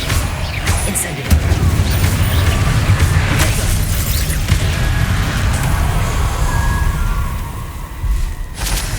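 Incendio fire spell cast in Hogwarts Legacy, a loud whooshing burst with booming impacts and crashing debris, sustained for several seconds before fading.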